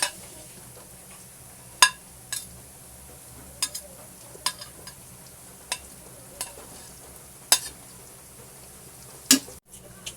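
Onions frying in a pan give off a soft, steady sizzle, broken by sharp clinks and scrapes of a utensil against the pan at irregular intervals, close and fairly quiet, with no talking.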